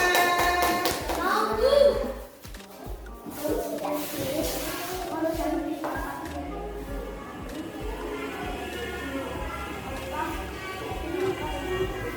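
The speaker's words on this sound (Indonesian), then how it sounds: "Kita tepuk tangan semua." A class of children in a school setting claps hands together in a busy, fairly steady patter that fades slightly, mixed with kids' voices and chatter throughout.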